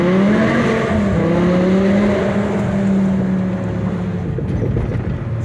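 A BMW E60 M5 accelerates onto the freeway, its engine note climbing through the revs and then dropping back, with a loud, close exhaust drone and road noise.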